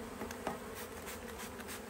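Honeybees in a package bee cage give off a steady, close buzzing hum, faint overall, with no talk over it.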